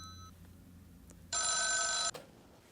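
A telephone rings once, a loud electronic bell tone lasting under a second and cutting off sharply, with a faint earlier chime and quiet room background around it.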